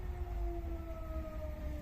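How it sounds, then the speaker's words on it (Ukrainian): An air raid siren wails from a distance, a steady faint drawn-out tone that sags slightly in pitch, heard alone against quiet outdoor background in a rural Ukrainian garden. "Ой, сирена знову."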